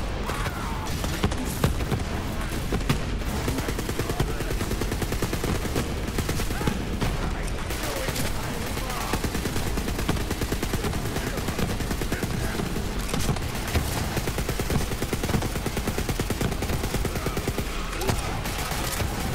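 Dense, continuous gunfire from a shootout in Borderlands 3, rapid shots and bursts rattling without pause for the whole stretch, loud and close, with occasional voices speaking over the barrage.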